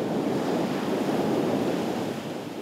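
Sea waves wash steadily against an eroding shoreline in Corsica, a continuous close roar of surf mixed with wind noise, with no voices.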